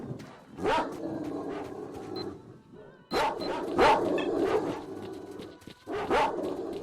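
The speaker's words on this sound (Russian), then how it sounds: "Так, опять тут псины." Mutant dogs in the video game STALKER: Shadow of Chernobyl bark and yelp in several sharp bursts, separated by short pauses, loud and fairly close with some echo.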